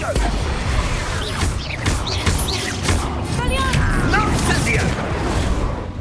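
Expulso blast spells in the Hogwarts Legacy game, a dense stretch of repeated booming explosions and magical whooshes mixed with crashing debris and combat effects, loud and continuous throughout.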